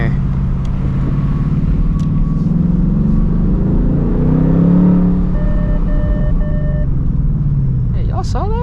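Warning beeps from a 2024 Mustang GT's pre-collision assist sound during a late-night city drive, a short repeated tonal chime over steady engine and road rumble, with a voice talking partway through.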